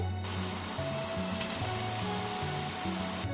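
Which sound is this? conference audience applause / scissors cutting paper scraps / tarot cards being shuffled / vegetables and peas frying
vegetables and peas frying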